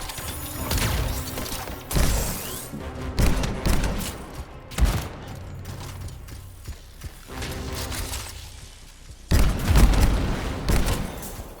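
Gunfire in the video game Anthem, loud rapid bursts and volleys arriving in several clusters with mechanical clanks and thuds between them.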